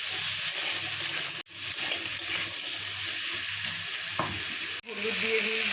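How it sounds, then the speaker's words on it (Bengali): Potatoes fry in oil for a snake gourd curry, giving a loud, dense, continuous sizzle close up, briefly cut by two sudden drops to near silence, with no one speaking. "ওর সাথে আমি আলুটা ভেজে নিচ্ছি।"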